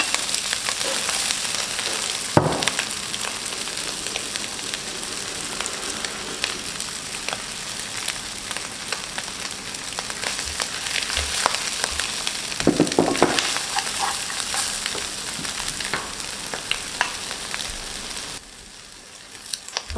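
Shrimp Pad Thai noodles sizzle loudly in a hot pan at a Thai street food stall, a constant dense frying hiss broken by a few clattering stirs, dropping off abruptly just before the end.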